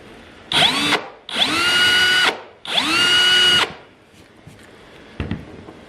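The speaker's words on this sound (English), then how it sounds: "we're using a 1-inch Forstner" Drill with a 1-inch Forstner bit boring into a bourbon barrel stave, three loud whining bursts that spin up and stop abruptly, followed by quiet and a brief knock, close and without talk.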